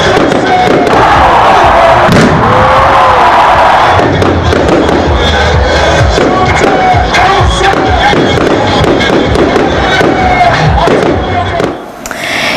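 A large crowd gathered at the Palais des Congrès in Lomé for a New Year's Eve fireworks show, loud and dense, with cheering and shouts over repeated fireworks thumps and crackles throughout.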